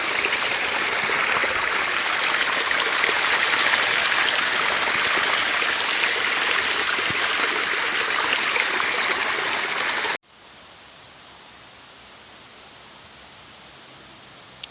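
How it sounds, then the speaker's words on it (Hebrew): A loud, steady rush of stream water flows through the Wutach gorge in the Black Forest, Germany, then cuts off abruptly to near quiet after about ten seconds. "יש כאן נחל."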